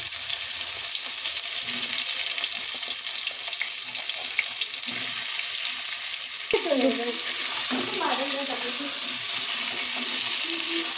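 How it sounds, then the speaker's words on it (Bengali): Pointed gourd slices coated in salt and turmeric fry in hot oil with a steady, close sizzle throughout, joined by a few stirring scrapes partway through. "এবার আমি ওই তেলের মধ্যে পটল যেগুলো কেটে রেখেছিলাম সেগুলোর সাথে নুন হলুদ মাখিয়ে নিয়েছি পটলটাও ভেজে নেবো"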